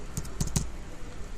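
Typing on a computer keyboard while entering e-GRAS to generate a challan, three quick clustered keystrokes close by in a quiet room, with no talking.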